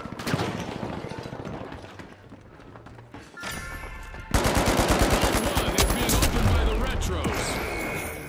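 Rapid automatic gunfire in the shooter game The Finals: dense, loud, sustained bursts that build after a brief lull, with a voice faintly underneath.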